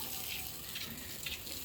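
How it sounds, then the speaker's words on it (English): Water runs from a garden hose held outdoors at a beach house build in the Philippines, a soft steady gushing spray with faint splashes, fairly quiet and continuous. "And just holding the water hose."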